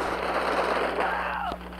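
Gunfire from the video game Bullet Force, with rapid shots rattling under continuous background game sound and a sharp report near the end, then a drop in level.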